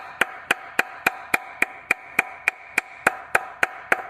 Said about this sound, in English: if you just work the hammer a little bit